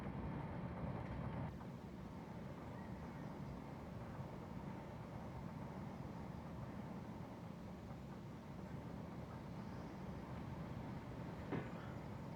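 Sacramento Northern SN 1003 interurban train in Train Simulator, a steady low rumble of motors and running gear rolling along continuously, with no talk over it.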